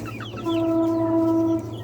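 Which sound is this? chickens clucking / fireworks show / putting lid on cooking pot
chickens clucking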